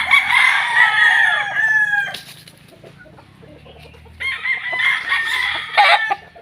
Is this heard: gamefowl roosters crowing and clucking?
yes